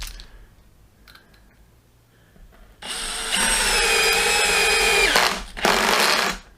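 A DeWalt DCD701 12V brushless drill driver whirs loudly in two bursts with a buzzy, clicking clutch, after a few seconds of near quiet; the first run holds steady for about two seconds, then a short gap precedes a second, briefer run.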